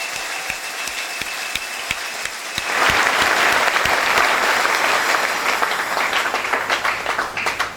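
A church congregation at a Sunday service breaks into applause: a few scattered claps at first, then loud, sustained clapping from the whole crowd that swells and carries on to the end.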